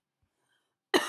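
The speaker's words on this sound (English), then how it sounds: "Cannot get rid of that cough." A single sharp cough bursts out near the end after near silence, close and fairly loud, a short harsh burst with a little trailing rasp.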